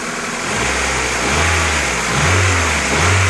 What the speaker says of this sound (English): We've got it out running here. This is the B20 engine.